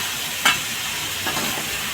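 Ginger paste goes into cabbage frying in a pan, giving a steady close sizzle with a brief louder hiss as it lands and softer stirring scrapes after.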